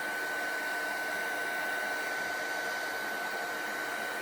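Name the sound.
heat gun drying ink on black cardstock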